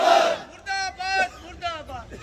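A protest crowd at a sit-in demonstration chants slogans in unison, with loud, rhythmic group voices rising and falling in repeated bursts close by.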